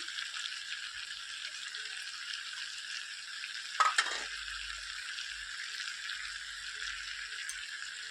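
Tomato paste fries in a pan for rohu fish curry, giving a steady, even sizzle throughout. A single brief utensil knock comes near the middle, with a little low rumble afterward.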